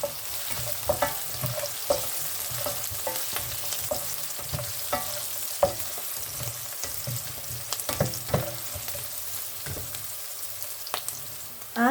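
Onion sautés in a pan as it is stirred, a steady sizzle with repeated scraping and tapping of a spoon against the pan and a few louder knocks, no voices.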